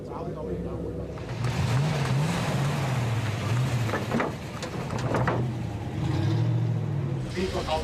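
A classic car driving through a banked turn on a test track: a loud, close engine drone with rising and falling revs, steady throughout, with a voice talking over it.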